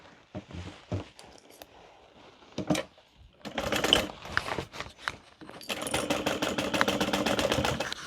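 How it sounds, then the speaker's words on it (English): A sewing machine stitches through thick tote bag layers in short stop-start bursts at first, then settles into a longer, steady run of rapid mechanical clatter, close and fairly loud. "we're going to sew through all of these layers from end to end"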